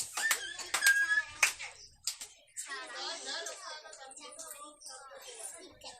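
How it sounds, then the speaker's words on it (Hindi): Young children at a general-knowledge quiz clap their hands in several quick, loud bursts near the start, and a speaking voice follows. "जोरदार ताली बजा"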